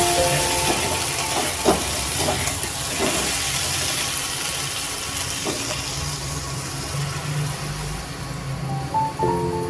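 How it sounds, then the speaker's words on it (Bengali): Water poured into a hot pan of figs, a loud steady steaming hiss that fills the whole stretch and slowly eases, with a few soft knocks of utensils. "জল দিয়ে দিলাম, আমি একটু সেদ্ধ করবো"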